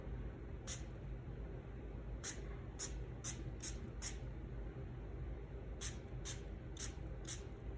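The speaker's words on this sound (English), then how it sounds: "Just start with one little spritz and see what happens." A handheld spray bottle mists water in quick short spritzes, about ten bright hissing bursts, some in rapid pairs or runs, close and distinct over a low steady background hum.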